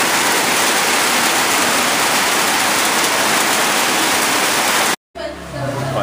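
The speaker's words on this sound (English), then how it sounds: "when it rains, it certainly rains" A heavy tropical downpour in Sumatra makes a dense, steady roar of rain close by. It runs unbroken, then cuts off abruptly near the end, leaving quieter ambient sound.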